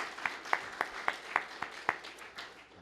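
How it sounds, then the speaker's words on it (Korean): A church congregation gives a short round of applause during a Sunday service, soft and somewhat distant, with several evenly spaced sharper claps standing out over a faint bed of hands before fading. "하나님 앞에 영광의 박수 올려드리겠습니다."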